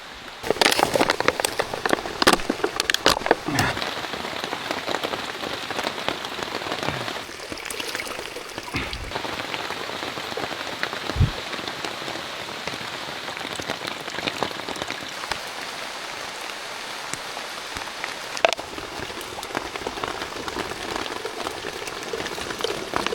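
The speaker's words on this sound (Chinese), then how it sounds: "又下雨了！" Sudden rain pours on a desert island, a steady close patter of drops on leaves and surfaces with scattered louder splashes and sharp drips throughout.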